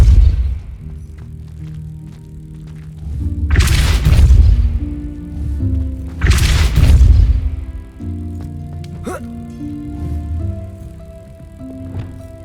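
Spell impacts from the game Hogwarts Legacy: two heavy booming blasts with broad crashing bursts over a steady musical score, followed by softer magical effects and a sharp pop near the end.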